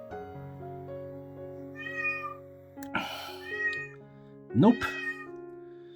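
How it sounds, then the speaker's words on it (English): A cat meows repeatedly nearby, several drawn-out rising cries spread across the moment, with a short spoken word and a faint steady background tone. "He's unyielding with the meowing today."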